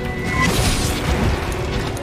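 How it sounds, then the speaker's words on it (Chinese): Explosion in the video game Monster Hunter: World, a dense, rumbling burst that fills the whole moment with sustained crashing noise and no separate voices. "爆炸了！"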